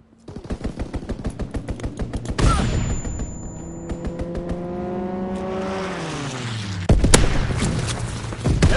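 An aircraft makes a strafing run in a World War II video game: rapid machine-gun bursts in a steady rattle, then a loud engine roar that sweeps past with falling pitch before heavy gunfire resumes, all loud and up close.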